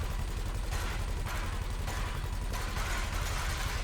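Automatic weapon fire in a video game aimed at a canister, heard as a dense, continuous rattle of rapid shots with a few brief shifts in intensity, steady and moderately loud throughout.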